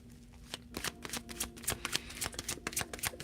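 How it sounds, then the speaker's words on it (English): Tarot cards shuffled slowly by hand at close range, a steady run of soft riffling flicks and snaps at an uneven rhythm, with no talking. "get a slow four card shuffle read"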